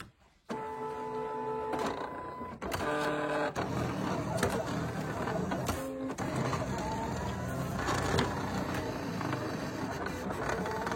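A Silhouette Cameo cutting machine works through cardstock with a continuous whirring, buzzing motor sound and irregular mechanical shifts and clicks, heard close by and fairly quiet throughout.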